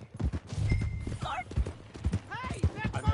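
Horse hooves clip-clopping in Red Dead Redemption 2, a quick run of close hoof knocks mixed with game effects and a brief whinny-like sweep, under talk from the characters.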